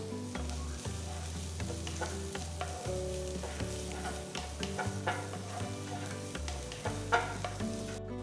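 Chopped onion and garlic frying in a pan for white sauce pasta, a steady sizzle with stirring scrapes and clinks throughout, close and moderately loud, with no talking.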